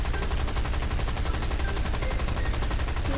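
Automatic gunfire in the video game War Thunder: a dense, rapid stream of shots, loud and continuous with no pause, under a steady rumble.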